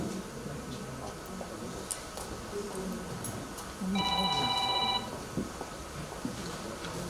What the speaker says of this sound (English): anybody's cell phone ring is going to be confiscated in school